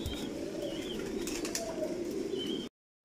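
Several racing pigeons kept at a large pigeon farm coo softly and steadily at close range, with faint wing flutters and a brief dropout near the end.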